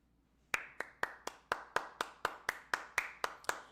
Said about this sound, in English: We're giving Best Buy the State of the Union applause.